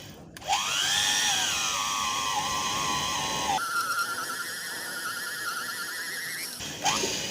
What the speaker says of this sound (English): the technique of drilling a long piece of metal is all about water